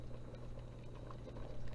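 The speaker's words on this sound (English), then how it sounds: "Once it comes up to a nice simmer, like I said, just reduce it to a very gentle, it's already coming up if you can see that bubbling." Chicken pot pie filling simmers in a pot, giving a soft, steady bubbling and popping, close by and alone.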